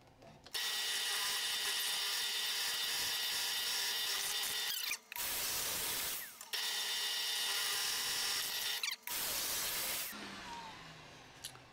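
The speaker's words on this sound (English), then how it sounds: "I'm gonna drill the holes in this to mount it" A power drill bores holes into an antler mount in two long sustained runs, whining loudly and close, with brief pauses between bursts and a fading spin-down at the end.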